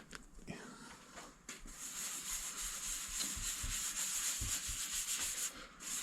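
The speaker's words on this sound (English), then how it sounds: "I'm going to try this scratch remover on a hard pad just to see if it makes any difference" A drill spins a hard pad with scratch remover across a plastic headlight on a Land Rover Discovery 2, giving a faint, uneven rubbing and scuffing sound with brief gaps and knocks.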